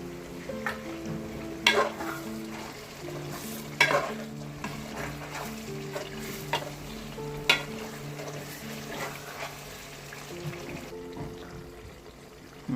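Afghani chicken karahi cooks with turmeric and spices in a karahi, a soft steady sizzle under repeated scraping and clacking of a spoon against the pan, with a low background music drone.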